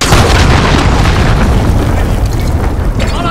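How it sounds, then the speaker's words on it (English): Heavy explosion from a cruise missile in a Call of Duty match: a loud, dense roaring blast that fills the clip and slowly trails off, close and overpowering. "Enemy cruise missile incoming"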